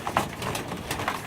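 Young pigeons let out of their pen, soft cooing and fluttering close by, brief and low-key without any talk.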